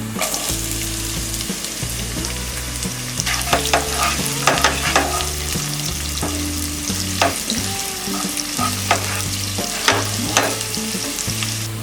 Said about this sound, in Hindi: अनियंस और गार्लिक फ्राई हो गए